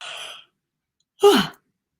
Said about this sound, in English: And then I'm going to yawn.